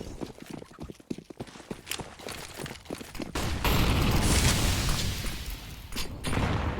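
Grenades burst on the Inferno map in CS:GO, a rapid flurry of sharp impacts and thuds followed by a loud sustained rumbling blast and a fiery roar that lingers to the end.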